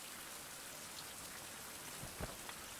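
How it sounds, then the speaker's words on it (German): Steady rain falls in the survival video game Fountain of Youth, a soft, continuous hiss with a couple of slightly louder drops near the end and no talk over it. "Es regnet."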